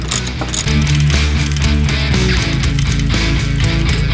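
Ratchet wrench tightening the wheel bearing bolts on a Dodge 1500 truck: loud, close, rapid clicking of the pawl with a steady grinding texture, continuous through the whole stretch, no talk.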